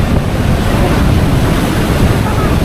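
Big ocean waves surge and crash against a shore where houses have been destroyed, a loud, continuous roar of surf and water thick with wind buffeting on the microphone.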